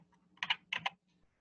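Quiet computer keyboard typing into a spreadsheet: two short bursts of a few clicky keystrokes each, close and isolated against a faint low hum.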